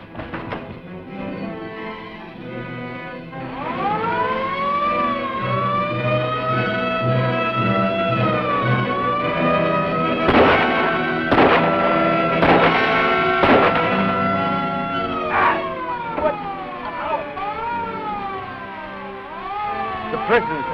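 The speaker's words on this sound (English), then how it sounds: "Sound the alarm!" An alarm siren in an old cliffhanger serial wails in rising and falling sweeps after an escape, loud and sustained, with people talking over it.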